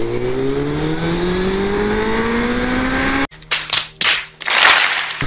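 A Suzuki Bandit 600 motorcycle at full throttle, its engine note rising steadily and loudly before cutting off abruptly, followed by sharp bursts of wind and mechanical noise up close.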